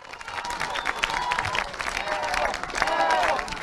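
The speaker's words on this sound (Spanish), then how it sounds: "¡Le damos un fuerte aplauso!" An audience at a school handover event in Colorados de Bolivia applauds steadily for a few seconds, a dense wash of clapping with crowd noise and a voice mixed in.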